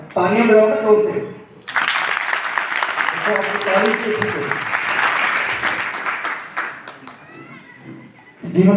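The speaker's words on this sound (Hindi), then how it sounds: "तालियां बजाओ ना जोर से।" Loud clapping from a congregation at a Hindi spiritual discourse in an ashram, bursting in after a voice and continuing steadily for several seconds before tapering, with speech at the start and end.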